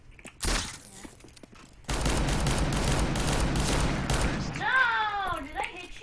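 Sustained rapid gunfire from a P90 in a Counter-Strike: Global Offensive match, a loud dense burst running several seconds after a brief earlier shot, with a voice calling out near the end.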